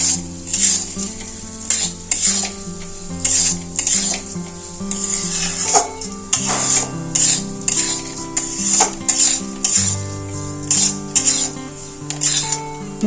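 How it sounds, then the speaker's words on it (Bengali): Mung dal fries in ghee over low heat, a steady sizzle broken by repeated clinks and scrapes of a stirring utensil against the pan, with a low sustained tonal hum running underneath. "এই মুগের ডালটা হালকা আঁচে ভেজে নেবো"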